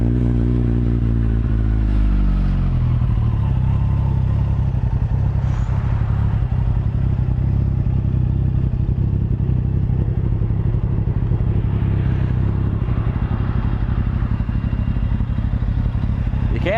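A 2010 Kawasaki ZX14 sport bike engine idles close by after a brief rev, holding a loud, steady, throbbing rumble with light mechanical clatter throughout.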